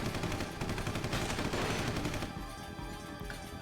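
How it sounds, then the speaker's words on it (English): Rifle fire from the video game Tokyo Necro roars in dense, rapid bursts, loud and close, easing slightly toward the end with no voices. "I hear the ear-piercing roar of their rifles, followed by a couple of small explosions"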